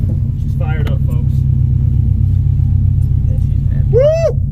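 A tuned car sits rumbling after a burnout, giving a steady, loud, low engine drone. Excited voices whoop and call out over it.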